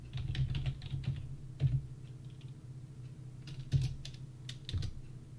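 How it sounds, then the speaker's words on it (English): Keystrokes on a computer keyboard while a command is entered in AutoCAD, a quick irregular run of soft clicks with a few louder key taps, close and fairly quiet, with no voice. "Once you type in this command,"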